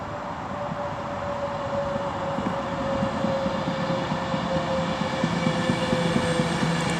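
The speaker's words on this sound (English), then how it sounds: "now approaching is going to be 39151, working the 1324 Avanti West Coast service from London Euston to Manchester Piccadilly." The 13:24 Avanti West Coast train 39151 from London Euston to Manchester Piccadilly, which has a slightly flat front wheel, approaches Milton Keynes Central with a low rumble and a steady tonal hum that slowly grow louder.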